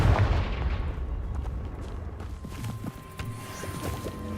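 A Confringo blasting-spell explosion effect sounds as a burst of rough, booming crackle that starts loud and fades into scattered, knocking thuds.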